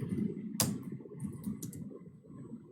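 Commands typed on a computer keyboard, with soft, quiet key taps in an irregular rhythm and one sharper, louder click partway through, close to the microphone over a low room hum.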